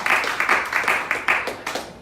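Church congregation clapping for the Lord during a Spanish-language sermon, a dense burst of applause with repeated rhythmic peaks lasting about two seconds, fairly loud and close.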